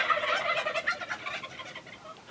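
A wild turkey tom gobbles in one rapid, rattling burst that starts loud and tails off, heard alone and at moderate distance outdoors.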